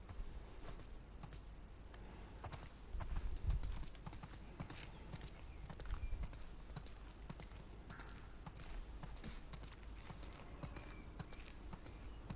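Horses in The Last of Us Part 2 walk along with steady clip-clopping hooves, faint and continuous beneath a low rumbling ambience.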